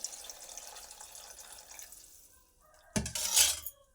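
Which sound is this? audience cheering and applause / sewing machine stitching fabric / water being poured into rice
water being poured into rice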